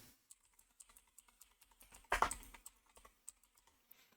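Quiet, close keyboard typing: scattered light key clicks with one louder burst of clatter in the middle.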